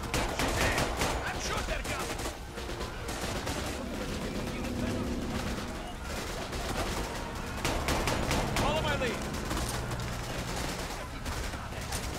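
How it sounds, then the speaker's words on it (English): Dense, continuous gunfire from the World War II shooter Raid: World War II, with overlapping rapid automatic bursts and heavy blasts filling the whole stretch at steady loudness, with voices mixed in. "We're taking fire."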